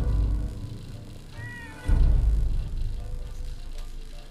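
A cat in the Fallout 4 video game meows once in a short rising cry, set against a low rumbling background that swells with a sudden thump of noise afterward.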